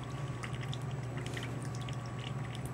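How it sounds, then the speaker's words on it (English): Water pours in a steady, continuous stream from an automated beverage dispenser, flowing slowly with a constant machine hum underneath and no talking. "Water's coming out kind of slow."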